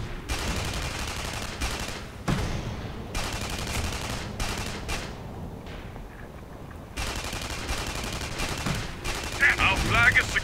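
Rapid bursts of weapon fire in the sci-fi shooter Tribes Ascend during a capture-the-flag match, loud repeated volleys with short gaps, plus game effects in the background.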